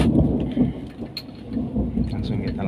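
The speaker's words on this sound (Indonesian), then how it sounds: "Di sini hujan teman-teman." Steady rain pours during outdoor work removing the cylinder head cover of a Daihatsu Gran Max, a dense, loud, continuous wash with rumbling low noise like distant thunder beneath it.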